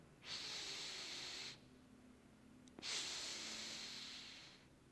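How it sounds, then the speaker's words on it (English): Two long, breathy open-mouth exhales during yoga breathing, close and soft, separated by a quiet pause, with no talking. "2 breaths in, open mouth, exhale."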